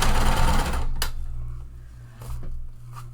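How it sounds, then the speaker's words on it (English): A sewing machine back-stitches the seam of a tote bag, running in a short loud burst that stops, followed by a couple of brief quieter stitching bursts. "make sure you're back stitching at the beginning and the end"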